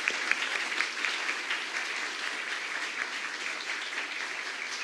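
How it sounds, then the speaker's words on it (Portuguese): A hall audience claps for a professor at an academic welcome event for new specialization students, a steady, moderate round with a few sharper claps at the start. "eu gostaria de pedir uma salva de palmas ao professor Paulo e agradecer a presença dele."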